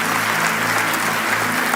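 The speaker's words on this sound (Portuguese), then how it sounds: "Forte aplauso para o Fábio e para a Cris." Steady, dense applause from a church sermon audience, a continuous wash of many hands clapping at once with no break.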